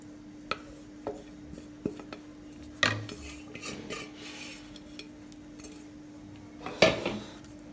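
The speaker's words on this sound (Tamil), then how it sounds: "இப்போ இதில் போட்டு கிளறிடுவோம்." A spoon stirs cooked rice into a brinjal biryani mixture in a pot, with scattered scraping clinks against the metal over a low steady hum, occasional sharper knocks standing out.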